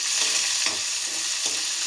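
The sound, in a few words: onions, green chilies and garlic frying in a pan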